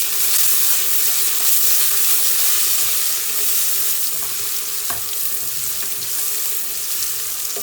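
Garlic frying in a pan for vegetable pulao, a steady close sizzle with faint stirring scrapes and a brief clink, continuous throughout with no talk.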